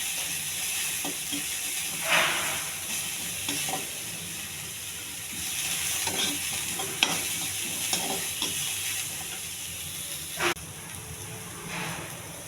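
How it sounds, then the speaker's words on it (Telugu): Onions frying in hot oil over a fairly high flame for a spinach dal, a steady sizzle and hiss with repeated scraping stir strokes, close and continuous, with no talk. "ఉల్లిపాయ అండి, ఇది కూడా త్వరగా వేగించాలి."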